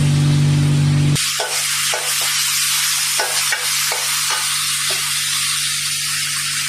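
Masala spices sautéing in a pan for a fish curry with eggplant and potato, a loud steady sizzle with repeated scraping stir strokes, starting abruptly after a brief hum.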